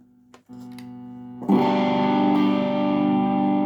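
An electric guitar plays through a distortion pedal, a few short muted notes then a ringing, fuzzy sustained chord that holds steadily.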